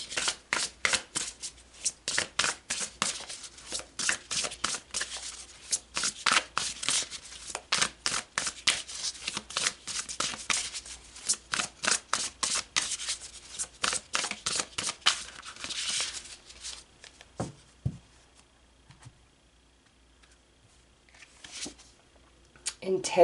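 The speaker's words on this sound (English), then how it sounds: "Let's pull some more cards." Oracle cards being shuffled by hand in a fast, steady run of crisp papery riffles that stops near the end, leaving quiet with a few faint handling sounds.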